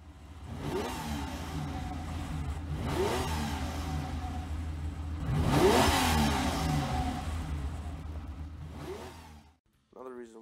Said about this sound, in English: Eddie's Lamborghini was recorded for the breakdown of Panama